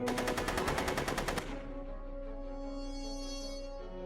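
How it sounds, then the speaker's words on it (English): Rapid automatic gunfire in the Back to the Future: The Game video game rattles loudly for about a second and a half, then breaks off into a lingering metallic ringing tone. "Are you shooting at me?"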